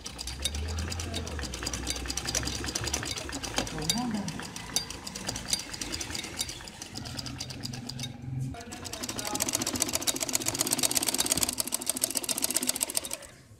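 A sewing machine stitches steadily over lace along a garment neckline, a continuous close mechanical whir and rattle with a brief pause partway through, while a voice talks at times over it.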